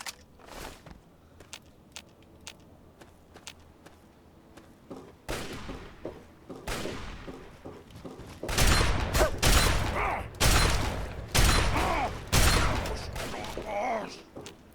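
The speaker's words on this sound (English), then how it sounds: "And that is why I like the combat shotgun." Heavy combat shotgun blasts from Fallout 3 gameplay, a handful of loud booming shots in the second half after quieter clicks, footsteps and mechanical handling sounds, with a voice talking over parts of it.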